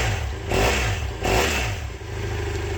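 A carbureted Funduro F650 motorcycle on its factory exhaust, revving twice from idle in two swelling blips before settling back to a steady, burbling idle, close and loud.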